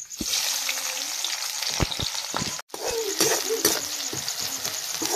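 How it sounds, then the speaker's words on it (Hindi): Onion, garlic, ginger and chili sizzle steadily in hot oil for a small dried-fish curry, with occasional stirring clatter and a brief break midway, fairly close and continuous. "डाल दिए हैं मिर्च लहसुन अदरक सब, तो बढ़िया से इसको हम लोग भून लेते हैं।"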